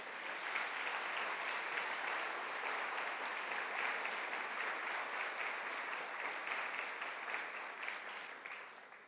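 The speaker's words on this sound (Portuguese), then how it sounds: "Aproveita e dá um aplauso lindo para o Senhor." A church congregation claps steadily for the Lord during a sermon, a dense, sustained applause lasting several seconds at an even level before tapering slightly at the end, with no voices over it.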